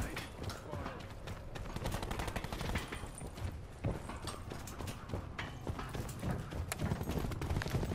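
Tempest weapon firing in Call of Duty Black Ops 4, sharp crackling discharges and bursts over dense, continuous game action, loud and sustained throughout with a talking voice mixed in.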